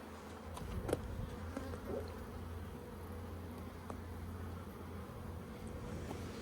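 Honeybees buzz steadily at a hive during a hive inspection, a low continuous drone with occasional louder passes from individual bees flying close by.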